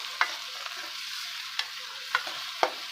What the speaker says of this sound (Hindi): अब इसको अच्छे तरीके से मिक्स कर लेंगे।